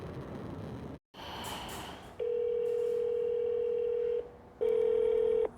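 A call goes unanswered on a school district phone line, and the ringback tone repeats as two long, steady electronic buzzes separated by short pauses. Faint line hiss sits underneath.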